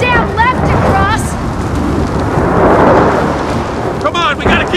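A roaring storm in the video game Gears of War 4, a broad rumbling wash of wind and thunder that swells in the middle and stays loud throughout, with voices speaking at the start and end.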